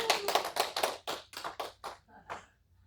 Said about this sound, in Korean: 우리 제니 전도사님께서 박수 한번 하겠습니다